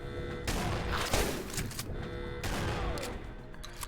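Enemies fire from above in the video game Fissile Empire, with heavy, sustained bursts of gunfire in two loud waves separated by a short lull, dense and close, with no talk over it.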